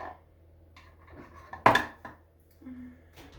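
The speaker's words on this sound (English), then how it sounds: "Give it a good little stir every once in a while" Sliced apples are stirred in lemon juice in a bowl. A few soft scrapes and knocks come through, with one louder clatter near the middle, all close and fairly quiet.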